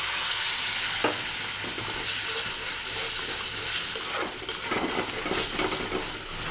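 Fish curry spice paste sizzles loudly and steadily as broth is poured in, a dense close hiss with a few scraping stirs and a surge of bubbling toward the end.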